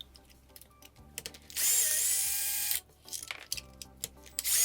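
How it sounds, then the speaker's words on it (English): A power driver whirs for about a second on a Kraton XL RC car, backing out temporary screws from the front block holes, with faint handling clicks before and after in a quiet room. "we're going to remove our temporary screws from the front block holes"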